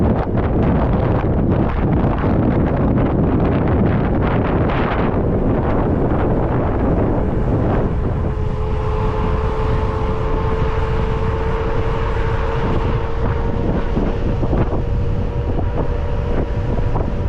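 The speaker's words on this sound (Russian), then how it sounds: "Еще и ветер." Strong wind roars steadily across the microphone while cycling in Crimea, a loud continuous rumble with a faint tonal hum emerging partway through.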